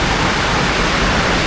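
Heavy rain pouring down beside a house with a roof overhead, a dense, loud, unbroken roar of falling water close by.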